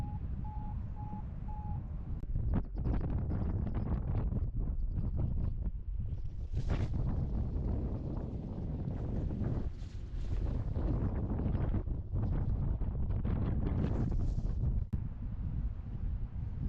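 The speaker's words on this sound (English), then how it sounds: "Launching in light wind." Light wind buffets the microphone during a paraglider launch, a steady rumbling gusty roar that rises and falls in close, loud bursts throughout.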